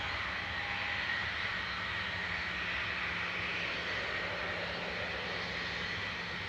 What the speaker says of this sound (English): sorry about the noisy ATR